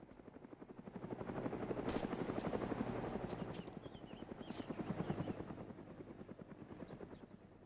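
A helicopter in a sniper video game flies overhead with a steady, rapid rotor thump that swells and fades slightly over several seconds, continuous and fairly close, with no talk.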